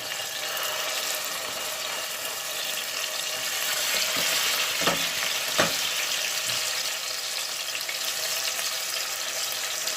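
Tomato pulp for arrabbiata hits hot chili oil in a pan, producing a loud, steady hiss of sizzling that swells briefly with a couple of sharp spatter pops, then settles into constant frying for ten seconds without speech.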